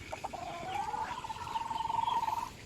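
A chicken, a gamecock kept at home, lets out a drawn-out crowing call that rises and swells over a couple of seconds, heard close and clear over faint outdoor background noise.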